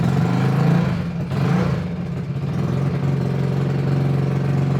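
A rebuilt MB-200 mini bike's small single-cylinder engine runs steadily close by at a loud, even idle with a low throbbing tone, dipping briefly twice, with no talking.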